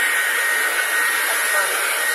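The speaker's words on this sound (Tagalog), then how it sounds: "Blower, blower pa siya." A hair dryer blows steadily on a freshly bathed dog, a loud, constant airy roar that holds unchanged from start to finish.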